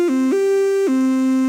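Serum synth lead in FL Studio, triangle oscillator with filter, playing a sustained loud monophonic line that slides between three pitches with smooth glides, heard alone.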